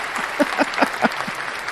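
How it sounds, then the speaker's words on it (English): An applause sound effect plays at the start of a camping news livestream, a short burst of crowd clapping with several distinct sharp claps standing out over a softer patter, clear and moderately loud. "I do have applause, so let's do that"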